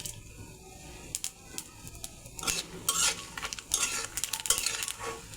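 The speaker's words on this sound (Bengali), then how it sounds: "গরম মশলা ভেজে নেব, দারচিনি, এলাচ আর জিরা।" Cinnamon, cardamom and cumin fry in oil with scraping stirs, the quiet start building into busier crackling sizzle and utensil clatter, close up, with no talking.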